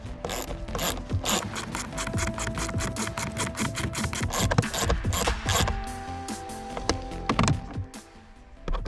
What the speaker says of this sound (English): just get your ratchet and tighten them down